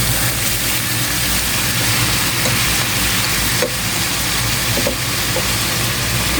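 Beef short ribs in oyster sauce being stirred in a pan, a steady broadband sizzle with faint scraping, continuous and close with no talk.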